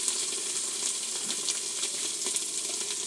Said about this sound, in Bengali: এগুলো একটু ভালোভাবে নাড়াচাড়া দিয়ে কষিয়ে নেব।